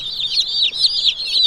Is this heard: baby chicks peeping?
yes